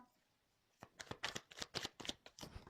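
Tarot cards are handled and shuffled up close, giving a quick series of crisp riffling flutters and snaps after a brief quiet start, fairly soft overall and with no talking.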